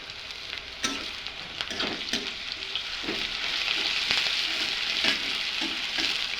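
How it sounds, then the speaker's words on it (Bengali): Chopped garlic and onion sizzle together in a pan for a rice biryani, a continuous close hiss with scattered stirring scrapes that grows slightly louder, no voices. "সবগুলো একসাথে ভাজা করব"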